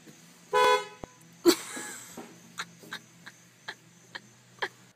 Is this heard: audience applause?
no